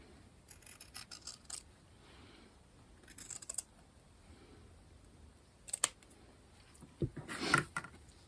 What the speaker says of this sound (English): I'm going to continue the cut right up into the corner.